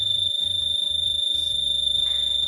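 A wake-up alarm on its lowest setting sounds as a steady high-pitched electronic tone, continuous and fairly close, with a faint pulsing buzz beneath and no one speaking.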